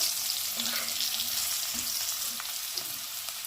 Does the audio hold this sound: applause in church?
no